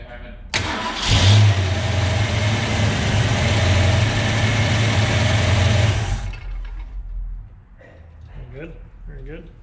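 A Ford 289 V8, newly swapped in for a six-cylinder, cranks and catches on its first start, then runs loud and steady with a revving roar for several seconds before dropping to a lower idle as voices talk nearby.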